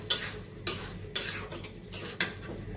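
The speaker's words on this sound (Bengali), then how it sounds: "দিয়ে দিচ্ছি ধনিয়ার গুঁড়া এবং মশলাটা কষানো হোক" Masala with onion and coriander powder being sautéed in a pan: about five evenly spaced metallic clatters of a spoon against the pan, with a faint sizzle between them.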